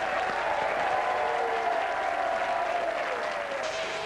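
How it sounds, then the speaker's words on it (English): A studio audience at a television comedy show gives a big round of applause, a dense, even wash of clapping that holds steady throughout with faint voices mixed in. "big round of applause"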